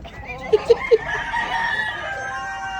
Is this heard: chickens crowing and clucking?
yes